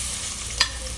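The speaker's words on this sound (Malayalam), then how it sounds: "ആവശ്യത്തിന് നെയ്യ് ഒഴിച്ചിട്ട് അണ്ടിപ്പരിപ്പ് വറുത്ത് കോരിയെടുത്തതിന് ശേഷം" Cashews frying in ghee in a pan for payasam, a steady close hiss and sizzle of hot fat with a brief louder stirring scrape partway through, no voices.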